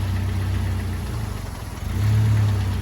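Manual car in first gear as the clutch is eased out, engine humming steadily at idle, dipping briefly under load, then rising again with a low drone, close and fairly loud.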